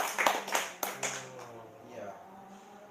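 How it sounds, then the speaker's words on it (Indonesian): A few sharp hand claps at a gathering about a goat pen, quick and fairly close, followed by voices talking. "Bos, tepuk tangan dulu bos."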